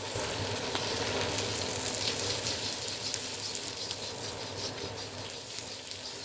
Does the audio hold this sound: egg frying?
yes